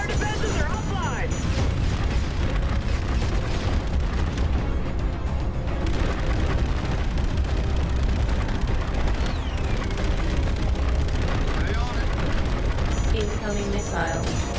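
Missile explosions and heavy combat in the sci-fi shooter Call of Duty: Infinite Warfare, a dense, loud, continuous rumble of booms and blasts with gunfire and mechanical noise, with voices speaking throughout.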